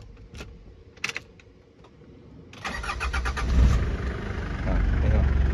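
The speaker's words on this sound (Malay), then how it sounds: "Dengar bunyi enjin, dengar bunyi starter." A Mitsubishi Pajero cranks on its starter and catches, settling into a steady, loud idle up close after a few soft clicks and knocks beforehand.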